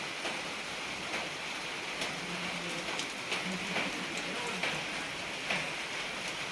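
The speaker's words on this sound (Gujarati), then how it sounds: "વરસાદે ઘીણો ઝીણો ચાલુ થઈ ગયો છે" Steady light rain patters on a surface, with occasional louder drops standing out against the constant hiss.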